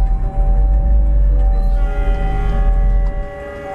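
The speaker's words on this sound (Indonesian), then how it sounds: "klakson kereta ya." A train horn sounds in the Euro Truck Simulator 2 driving game, a loud, sustained multi-tone blast holding steady for about three seconds before cutting off, heard alone without talk.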